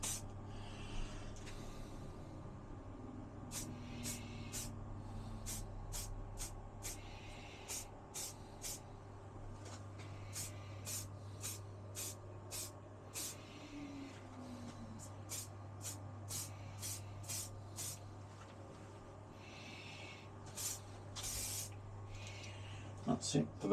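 A light coat of finish is sprayed onto a cane fishing rod in many short, quiet hissing bursts, fairly evenly spaced over a low steady hum, with occasional talk in the background.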